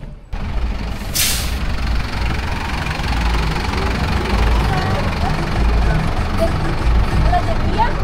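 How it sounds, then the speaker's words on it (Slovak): Mexico City bus engine rumbling at idle close by, with a sharp hiss of an air brake release early on and a steady low diesel throb underneath. "Prvý autobus v Mexiku."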